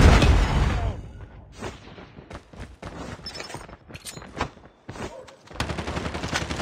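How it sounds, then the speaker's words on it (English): A predator missile strike in the mobile shooter Call of Duty Mobile: a heavy, loud explosion opens, followed by scattered bursts of gunfire and sharp cracks rattling on throughout. "Predator missile inbound"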